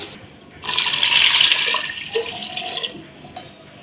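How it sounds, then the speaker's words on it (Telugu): Water poured into a cooking pot holding three tomatoes and five green chillies, a steady splashing gush for about a second and a half that thins into softer trickles and drips. "వాటర్ యాడ్ చేస్తాను"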